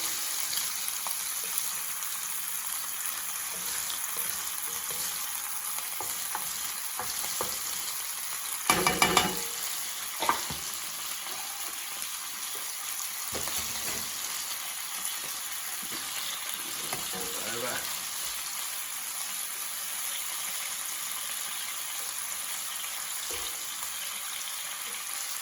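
Prawns fry in a pan for a Keralan coconut curry, a steady close-up sizzle running throughout with occasional scraping and stirring clatter, no talk over it.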